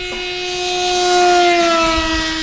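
A Banana Hobby Sky Surfer V5 RC plane runs at full throttle down a runway, its electric motor giving a loud, steady high whine that rises slightly in pitch and then eases off over a couple of seconds.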